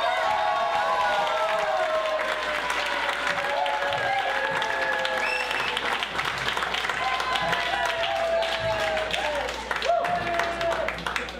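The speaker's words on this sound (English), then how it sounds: "And you guys better clap too." A comedy club audience applauds and cheers steadily as comedian Gerry Kaplan is introduced, a dense, loud wash of clapping with crowd voices and whoops throughout.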